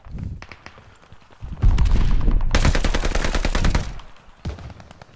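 Gunfire in the video game Call of Duty: Vanguard: a few scattered shots, then a loud sustained burst of rapid automatic fire lasting a couple of seconds, followed by a short trailing shot or two.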